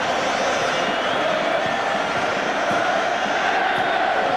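Large rugby league cup final crowd at Wembley, Wigan versus Hull, roaring and cheering in a steady, dense wall of noise that fills the whole stretch without a break.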